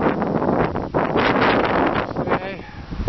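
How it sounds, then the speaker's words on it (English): Strong gusts of wind, about 20 miles an hour, buffet the microphone with roaring, rumbling bursts, and a voice speaks partly under the noise. "As you can see, it's pretty windy today."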